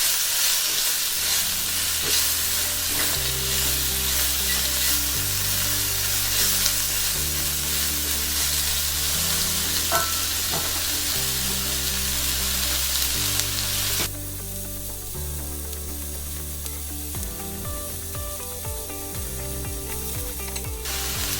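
Chopped onion sautés in a cast iron Dutch oven with a steady, close hiss of sizzling that runs unbroken throughout, under a background of stepped musical tones and no talk.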